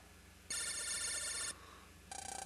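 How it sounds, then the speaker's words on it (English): A phone rings in the Mega Man Battle Network 5 video game: a bright electronic ringtone plays for about a second, pauses, then starts again with a pulsing tone. "Lan, it's your phone."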